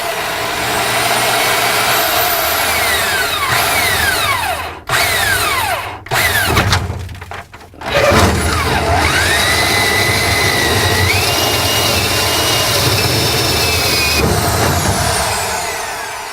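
A power drill with a larger drill bit whines loudly and continuously at close range during a Xantrex Freedom SW 3012 inverter install, its pitch sliding up and down, with a few brief stops and restarts.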